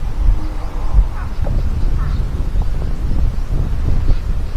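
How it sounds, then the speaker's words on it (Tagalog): Strong wind buffets the microphone at an outdoor long-range shooting range, making a continuous loud low rumble and roar with gusty swells. No voices are heard. "lakas na ng wind mga idol"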